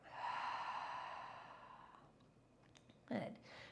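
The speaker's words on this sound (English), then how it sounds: "And inhale and exhale." A slow exhale during a yoga breathing exercise comes as a soft, breathy rush lasting about two seconds, close and quiet, followed by a brief sharper intake or sniff.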